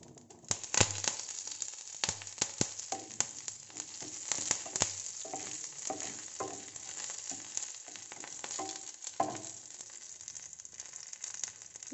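Curry leaves dropped into hot oil with popped mustard seeds and urad dal, frying for a guava chutney tempering, give a steady crackling sizzle with sharp spattering pops throughout.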